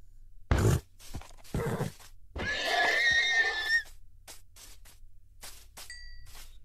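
A horse neighs in a Minecraft meme game. A loud whinnying cry rises and falls over about a second, between short scraping and rustling bursts and a few faint clicks, with no one talking.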